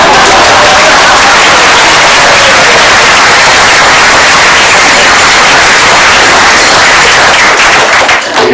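An audience claps loudly and continuously, a dense wash of close applause that holds steady for the whole stretch and thins slightly at the very end.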